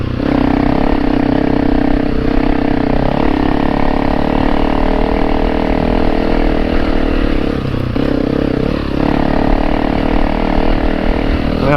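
Honda CRF300L Rally motorcycle engine pulling steadily in second gear on a climb, a loud continuous close-up drone with slight throttle dips and recoveries, no talking.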